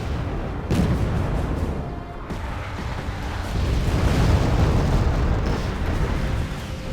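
Bombing explosions in the Wargame: AirLand Battle video game, a dense roll of booms and rumbling blasts that swells and stays loud for several seconds with no talk.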